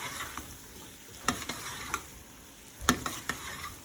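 Frozen peas stirred into potatoes in a pan over full heat, with a low steady sizzle broken by a few sharp spoon knocks and scrapes.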